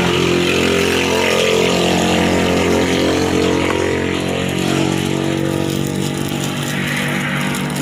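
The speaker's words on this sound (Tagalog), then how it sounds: "Maganda na yung tunog ng makina." A Barako motorcycle engine idles steadily after repair, a loud, close, even rumble that runs without pause throughout.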